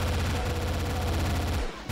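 SMG fire in a Doom map, a dense, loud, continuous rattle of rapid shots filling nearly two seconds before cutting off briefly at the end.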